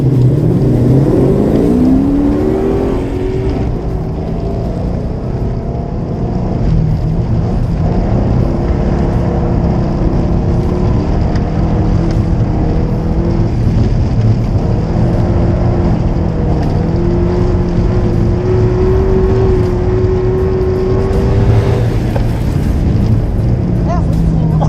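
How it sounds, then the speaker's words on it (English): A rusty, rebuilt Mitsubishi Lancer EVO 8 ice racing on studded tyres, its engine loud and close, droning and rising through gears in steady sustained pulls over the full run, with a voice faintly audible beneath. "It's pretty much one of the coolest sensations I've found in the car is ice racing on studs."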